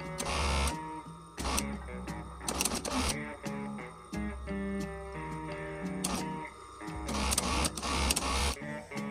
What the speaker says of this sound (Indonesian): Yuk kita obras dulu.